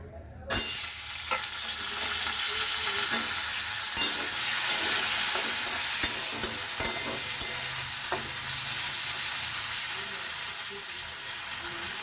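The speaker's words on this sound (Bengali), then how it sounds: "এবার মাছ ভাজার তেলে আমি পটলগুলোকে ছেড়ে দেব" Pointed gourds dropped into hot oil left over from frying fish burst into a sudden loud sizzle. A steady crackling hiss follows with occasional stirring clinks, close up and without talk.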